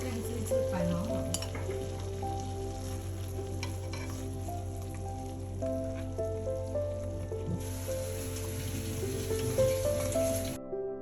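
Tamarind prawns in a dark sauce of soy and tamarind are stirred in a hot pan, giving a steady soft sizzle with light scraping and stirring, fairly quiet and even throughout.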